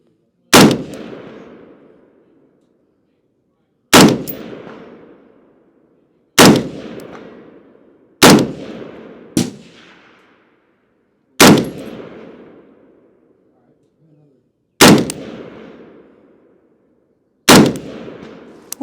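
Rifle gunfire from a gun that is heating up: seven sharp, loud single shots at uneven intervals of a few seconds, each with a ringing echo that fades out. Near-silence falls between the shots.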